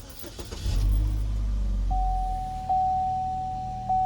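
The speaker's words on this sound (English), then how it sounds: "And then turn on your vehicle." A Chevy Equinox starts: a brief key rattle, then the engine turns over and settles into a low steady idle, with a faint electronic tone chiming a few times over the hum.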